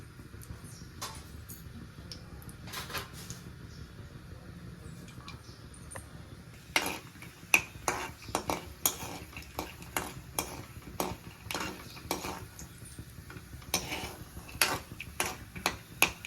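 A spoonful of peanuts roasting in a little oil in a pan, sparse crisp ticks and crackling pops over a soft sizzle, growing busier toward the end, with no talking.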